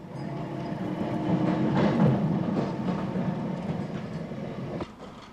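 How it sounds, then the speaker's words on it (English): A Walthamstow LCC-style London tram rumbles along its rails, a loud continuous grinding racket that swells and then eases slightly, heard alone with no voices. "These Walthamstow LCC lookalikes made a terrible racket, but had a high turn of speed."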